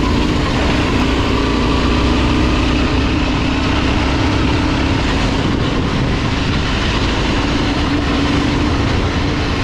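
Yamaha Tenere 700 adventure motorcycle engine ridden off-road on an unmapped dirt track, a loud, constant rumbling drone mixed with wind and road noise across the whole stretch, with no break.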